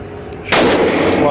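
A single loud, close gunshot cracks from a Ruger GP100 revolver with rosewood grip inserts, fired at a target 5 yards away on a shooting range, with a brief ringing decay afterward.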